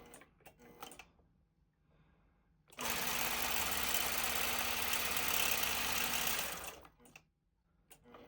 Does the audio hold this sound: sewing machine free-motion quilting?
yes